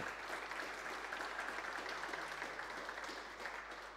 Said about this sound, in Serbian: molio bih jedan aplauz za našu